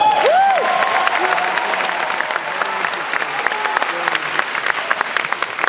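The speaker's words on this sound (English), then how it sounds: "Let's clap it up." Audience applause at a Gary Vaynerchuk event, a steady wash of many hands clapping with some crowd voices and brief cheering, fairly loud and continuous throughout.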